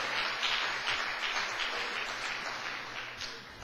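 A church congregation applauds at a sermon, dense steady clapping sustained for several seconds and gradually easing, with no speech over it.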